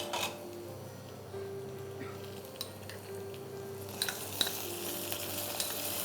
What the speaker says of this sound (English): So we'll lightly saute them in the oil to make them more crispy.